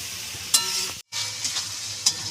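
Spice masala for a mutton curry frying in a pan with a splash of water, a dense hissing sizzle broken by a brief cut, with sharp stirring scrapes.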